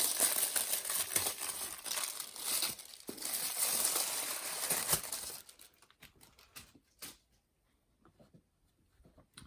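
Close crinkling and rustling of plastic packaging around a Razer Kishi controller box, steady for several seconds and then thinning into sparse soft handling clicks and taps.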